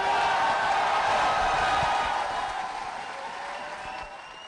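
A crowd at the Enough is Enough campaign launch rally applauds after a speech, with broad steady clapping and cheering that fades gradually toward the end while a voice talks faintly.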